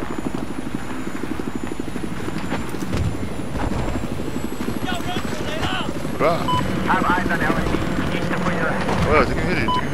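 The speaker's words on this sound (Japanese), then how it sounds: "おや、敵のヘリ、敵のヘリ。" Enemy helicopter in a video game, a constant rotor thrum with rapid chopping pulses running through the whole stretch, mixed with gunfire and other game effects while people talk over it.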